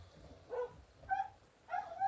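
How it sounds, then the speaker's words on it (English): Indoor dogs bark in three short bursts after a knock on the door, somewhat faint and muffled over low background noise. "the dogs are going crazy because somebody knocked on the door"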